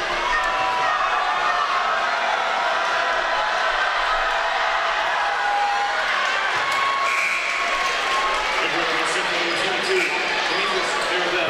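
Steady crowd murmur and scattered applause fill a high school gym during free throws at a Nebraska Class A boys basketball game between Omaha Burke and Omaha Central, with occasional ball bounces, no one speaking close by.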